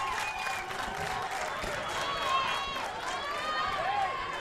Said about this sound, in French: Applaudissez pour la positive attitude de le Rêve,